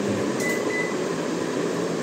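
IFB microwave oven running a defrost cycle, giving a steady low mechanical hum with a faint fan whir throughout, close and even, with no talking.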